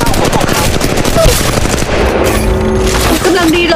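Dense automatic gunfire fills the Apex Legends Mobile match, loud, rapid bursts that run without pause over a steady rumble, with short electronic game tones.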